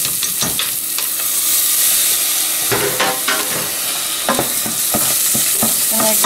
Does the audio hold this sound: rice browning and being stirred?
yes